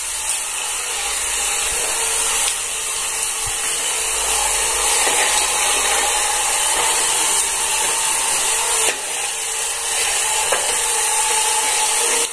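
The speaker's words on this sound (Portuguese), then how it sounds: "Então essa vassourinha aqui elétrica já vai auxiliar muito aí nessa questão de limpar" A small handheld electric broom, a vacuum-style sweeper used to clean up pet hair, running steadily and loud at close range with a constant high whir and slight shifts in pitch, and no talk.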